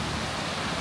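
Steady rain falls through the dense trees of the Basse-Terre national park forest in Guadeloupe, an even, close hiss of drops with no voices.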